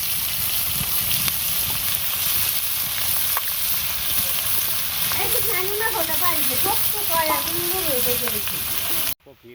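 Cauliflower fries in a pan with a steady, fairly loud sizzle and crackle throughout, while voices talk over it in the second half, and the sound cuts off abruptly at the end.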